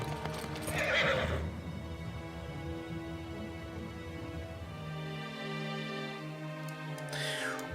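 Horses of horsemen in the strategy game Farthest Frontier: clip-clopping hooves and loud, close whinnies, with one neigh near the start and another near the end over a steady game soundtrack.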